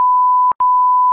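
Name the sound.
censor beep over speech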